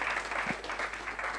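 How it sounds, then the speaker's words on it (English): A small audience claps together for about a second and a half, a steady patter of hands with a faint murmur. "give him a round of applause"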